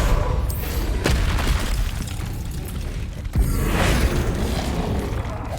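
Spell impacts in Hogwarts Legacy land as loud booming bursts over a constant game rumble, with one strong hit near the start and another sharp crack a few seconds later.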